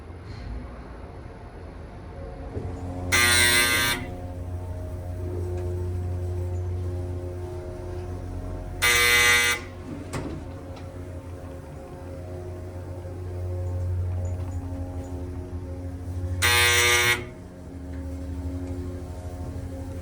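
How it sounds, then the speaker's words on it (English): A 1923 Staley hydraulic freight elevator motor gives a low, steady hum throughout, broken three times by brief loud bursts of hissing or clanking, with no talking. "I love the sound of that motor."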